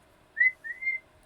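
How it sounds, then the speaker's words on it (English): A person whistles a short two-part call, a rising note followed by a longer sustained one, clear and close in a quiet room. "You whistle and you hear a return whistle"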